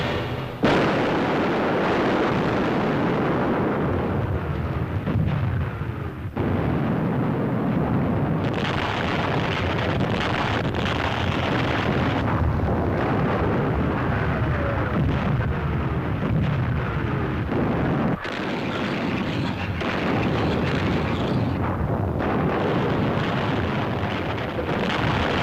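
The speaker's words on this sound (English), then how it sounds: "Shells, bombs, rockets were loosed against the beaches" Heavy, continuous rumbling barrage of naval shells, bombs and rockets striking invasion beaches during the Normandy landings, loud and sustained, with deep booms running together and swelling in waves.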